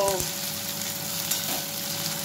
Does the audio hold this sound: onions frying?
yes